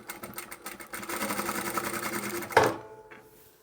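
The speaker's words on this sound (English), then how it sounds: "so I'm going to come along, secure this in place, and then backstitch." A sewing machine backstitching to secure fabric in place: a fast, even mechanical chatter of stitches running for about two and a half seconds, then a sharp clunk as it stops.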